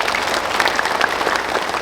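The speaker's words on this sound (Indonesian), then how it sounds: "Tepuk tangan untuk kalian semua" Applause from a crowd at a gathering of national-school students with their parents in a hall, steady dense clapping filling the whole stretch without pause.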